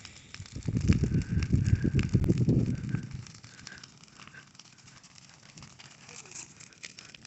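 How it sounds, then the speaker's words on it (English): A very large outdoor bonfire burning brush on a Missouri homestead, with close crackling and rumbling roar for about three seconds that then drops to faint crackle and wind noise. "The biggest bonfire I've ever made in my life,"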